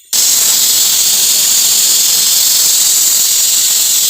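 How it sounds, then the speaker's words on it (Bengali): Okra and potatoes drop into hot oil in a wok, setting off a sudden, loud, steady sizzling hiss that holds evenly and without a break for several seconds. "ভেন্ডি আলুটা ভাজবো।"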